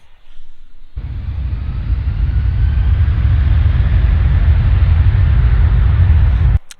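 A Malaysia Airlines airliner taking off at Adelaide Airport: a loud, sustained jet roar that starts abruptly and holds steady for several seconds before cutting off, with no talking.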